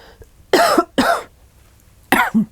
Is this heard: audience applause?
no